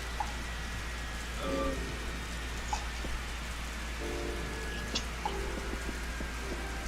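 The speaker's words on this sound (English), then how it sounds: "welcome to Kingston, where it's raining and windy and nasty." Rain falls at Kingston airport in a flight simulator game, a soft, steady patter with scattered drop ticks over a low engine hum, while brief tonal cockpit sounds come and go.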